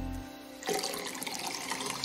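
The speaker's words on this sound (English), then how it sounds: "Give it a rinse with fresh clean tap water" A Bluelab pH pen probe is rinsed under fresh running tap water, a steady close splashing stream that starts abruptly and runs on without any talk.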